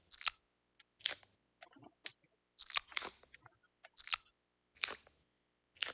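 A Needoh Tower squishy toy is squeezed again and again, giving crisp, crunchy squelches in short irregular bursts, close and fairly quiet, with brief silences between squeezes.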